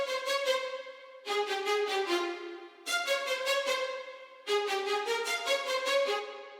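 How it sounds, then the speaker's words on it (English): Cinematic strings: a sampled orchestral section repeating a bright, stacked chordal figure in four rhythmic phrases of quick repeated notes over held tones, each phrase entering on the bar, clear and steady with no talking. "And then we have violins coming in with this kind of pattern."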